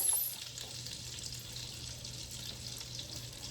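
Mushrooms and shallots sauté in butter and olive oil in a pan, giving a soft, steady hiss of sizzling that is faint and continuous with no voices.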